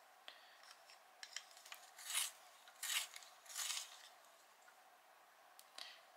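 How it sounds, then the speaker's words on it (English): A green gold colored pencil is twisted in a sharpener, giving a few faint, short scraping bursts in a quiet room, with a last small scrape near the end. "the green gold I'm just going to sharpen"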